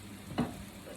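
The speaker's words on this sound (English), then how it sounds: "So, yeah, we'll just keep on frying." Fried rice with bacon, garlic and soy sauce sizzles in a pan, a steady soft frying hiss with one brief louder scrape or stir midway.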